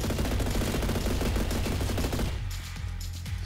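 Rapid automatic fire from a P90 in a video game, a dense burst of loud, closely spaced shots that cuts off partway through, followed by a short tail of quieter sounds.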